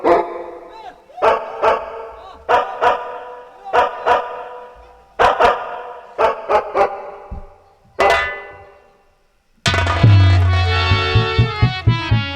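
A dog barks at a Raebareli nautanki folk theatre performance, sharp barks in irregular bursts of one to three, loud and close, ending with a longer run of higher yelps.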